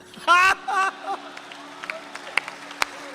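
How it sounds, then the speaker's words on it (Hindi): Scattered audience clapping and cheering at a Hindi comedy performance: a couple of loud vocal whoops up front, then sparse, uneven claps fading into a quiet room. "और अब आपकी समूह में तालियां उठेंगी"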